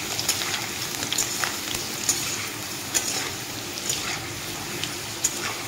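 Cubed potatoes fry in hot oil with whole cumin seeds until reddish, giving a steady, fairly close sizzle with scattered crackles and pops and no talking.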